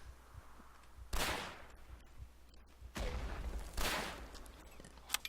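Rifle fire and battle noise from a First World War shooter game with a Gewehr 98 rifle crack in loud bursts, with two strong volleys and some sharp single shots over a low rumble.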